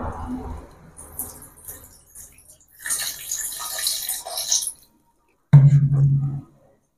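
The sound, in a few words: washing kabuli chickpeas in clean water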